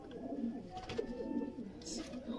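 Red-pearl-eyed Sialkoti pigeons coo softly in a low, throaty rolling murmur close by, with faint talk and a brief higher chirp near the end.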